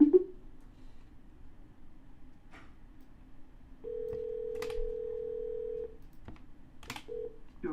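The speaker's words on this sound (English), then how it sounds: "And double dial." Phone dialing a number again: a few soft key taps, then a long steady dial tone and a second short tone, alone with no voices.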